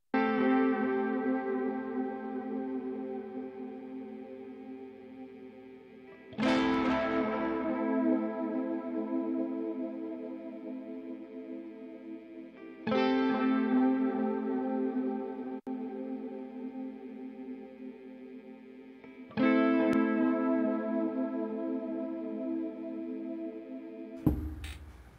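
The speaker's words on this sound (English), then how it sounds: "I'm going to apply harmonic distortion to the overall guitar summing track" A guitar summing track in Logic Pro X with subtle harmonic distortion applied: four sustained chords, each struck cleanly and then ringing and slowly decaying, moderately loud with no talk.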